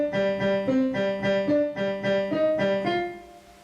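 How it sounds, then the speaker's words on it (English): Short, detached piano notes tapped without sustain pedal, playing a theme from Shin Gojira in a steady, even rhythm, close and clear with no voices. "take your foot off the sustain pedal, and make your notes staccato"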